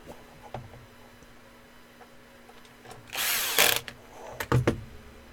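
Power drill fitted with a Phillips bit driving screws, heard as a short whirring burst followed by a few quick stop-start pulses, close by and without talk.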